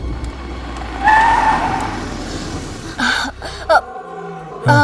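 A car brakes hard and skids to a stop, with loud rushing road and engine noise followed by short bursts of screeching tires before it settles.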